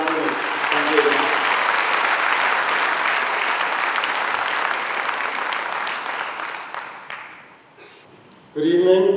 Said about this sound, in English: please give a warm round of applause to Mr. Jan Kunik.